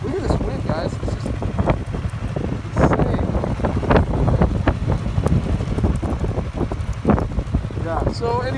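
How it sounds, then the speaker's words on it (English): Strong wind roars and buffets the microphone at Big Bear Lake, California, on a cold day before snow showers, a loud continuous gusting rumble with a person talking intermittently over it. "Look at this wind, guys."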